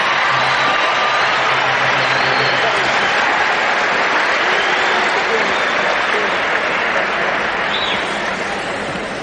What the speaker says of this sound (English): Let's have a round of applause for the Western Conference All-Star